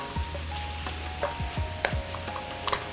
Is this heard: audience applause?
no